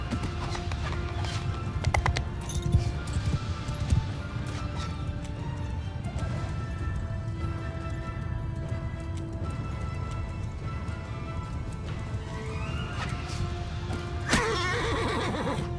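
A weak, unarmored horse in the Mount & Blade II Bannerlord video game neighs and whinnies while hooves clip-clop continuously under dense battle noise, with a sharp crash near the end.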